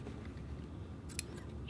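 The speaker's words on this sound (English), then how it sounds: "So what I can do is just snip them so they're all around the same length" Scissors snip embroidery threads for a sashiko patch on a men's shirt: a single crisp, close cut near the end, quiet against a soft low background hum.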